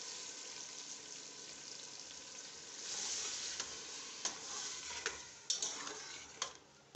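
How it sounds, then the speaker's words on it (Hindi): Masala and tomatoes sizzle steadily in a pot for beef achar gosht, with occasional scraping stirs and light clinks of a spoon against the metal. "मसाला हमारा भून रहा है"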